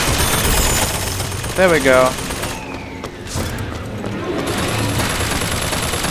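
Gunfire in Bioshock Infinite, rapid bursts of shots and a brief rattling volley early on, with a mechanical whine and loud booms amid shifting game noise. Someone speaks briefly.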